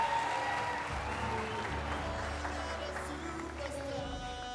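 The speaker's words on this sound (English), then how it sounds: "a big round of applause for Doreen" Studio audience clapping at a televised singing competition continues steadily beneath music with sustained tones, the applause moderately loud and even across the stretch.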